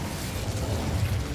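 Casting the Incendio fire spell in Hogwarts Legacy produces a loud, sustained roaring burst of flame, a dense rumbling whoosh lasting more than a second.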